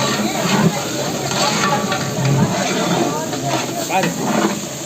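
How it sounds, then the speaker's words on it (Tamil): Onions sautéing in a pan during a family Pongal cooking session, giving a steady hiss and sizzle with stirring throughout, with people talking over it. "இந்த வெங்காயம் பொன்னேரம் வர மாதிரி வதக்கணும்."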